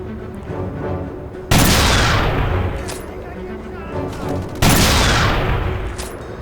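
Two loud, sudden bursts of gunfire from a weapon in a video game, each a sharp onset with a long decaying rumble, over a steady background bed.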